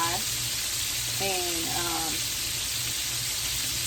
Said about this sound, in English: I started frying. This is my first batch